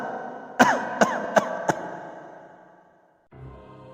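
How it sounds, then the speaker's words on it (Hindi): An old woman coughs inside a hut: four sharp, hoarse coughs in quick succession, close and fairly loud, then a low fading rasp, a brief silence and a soft rumble at the end. "झोपड़ी नजर आती है जिसमें से खांसने की आवाज आती है"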